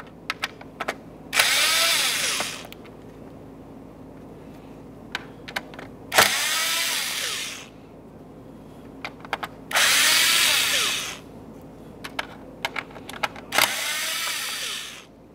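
A power drill backs out four Phillips head mounting screws from the glove box of a 2000-2006 Chevrolet Tahoe, heard as four separate whirring bursts a few seconds apart, close and fairly loud, with small clicks and handling taps between them.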